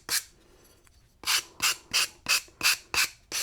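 Seven short abrasive rasping strokes against the sharp edge of freshly cut mirror glass, evenly spaced after a brief scrape at the start, close and fairly loud with no talking.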